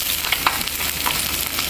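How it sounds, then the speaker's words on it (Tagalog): Salmon fries in its own rendered fat with no added oil, giving a steady close sizzle and crackle with small pops throughout and no voices. "ang pagluluto ng salmon, hindi kailangan maglagay ng manteka kasi ang salmon mo manteka na yan"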